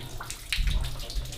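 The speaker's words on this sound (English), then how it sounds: "You know it's not safe when there's water coming through." Water runs and trickles through an underground nuclear monitoring bunker, a close, steady splashing rush with a brief hiss, heard alone.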